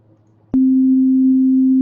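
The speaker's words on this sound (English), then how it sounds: "It sounds like a simple tone" A click, then a steady, pure synthesized sine-wave tone from Ableton Live begins and holds at an even pitch until the end.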